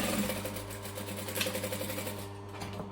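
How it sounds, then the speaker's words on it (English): A sewing machine stitches fabric steadily up close, its motor hum and rapid needle clatter running continuously throughout with no talking. "Always keep your needle down, lift your presser foot to make a right hand turn."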